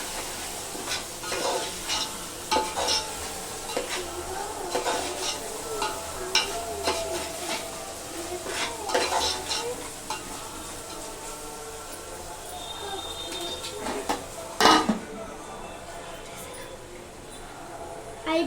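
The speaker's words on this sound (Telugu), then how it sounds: "అల్లం పేస్ట్ వేసుకున్నాక కలుపుకోవాలి బాగా" Ginger paste frying and being stirred in a pan for gongura chicken curry, with scraping and soft sizzling close by and utensil clatter, while someone talks over it throughout.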